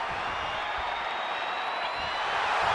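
Arena crowd noise from a WWE 2K26 wrestling match, a steady wash of cheering that swells slightly toward the end, heard alone with no talk.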